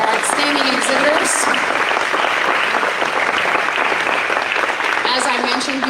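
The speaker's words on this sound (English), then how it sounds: "Let's have another round of applause for all of our outstanding exhibitors." Sustained applause from an audience at a 4-H style revue and state fair awards program, steady and fairly loud throughout, with a voice faintly audible beneath the clapping.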